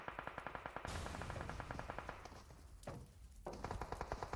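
Automatic gunfire in PUBG Mobile rattles in rapid, evenly spaced bursts, fairly faint, with a brief pause partway through before the rhythmic shots resume.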